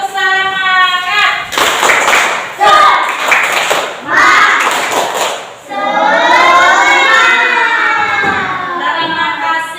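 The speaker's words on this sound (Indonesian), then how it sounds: "Yo Mas, tepuk semangat ya." Schoolchildren in a classroom perform the rhythmic tepuk semangat clap routine, chanting in unison between sharp bursts of group clapping, loud and close.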